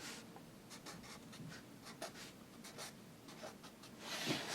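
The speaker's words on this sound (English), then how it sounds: "if you take your pencil and you write vertically downward from each one of those what the elements are" A pencil writing on paper, soft scratchy strokes in short repeated bursts, faint and close, with a slightly louder rubbing scrawl at the end.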